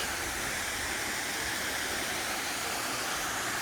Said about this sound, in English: got waterfall right the way up to the top there too